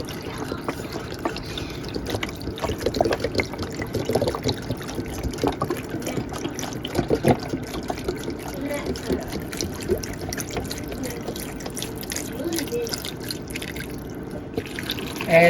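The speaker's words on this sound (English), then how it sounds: "we're going to go ahead and add in our vegetable stock" Vegetable stock is poured into a soup pot of vegetables, making a soft, continuous liquid trickle and splashing with occasional clinks, quiet throughout.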